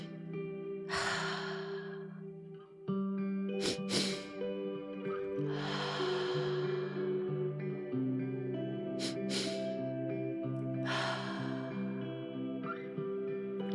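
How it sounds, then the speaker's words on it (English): A guided yoga breathing pattern for stress relief, with two short sniffing inhales through the nose and then a long, airy exhale through the mouth, repeated several times over steady background music. "2 short inhales through the nose, followed by a long exhale through the mouth."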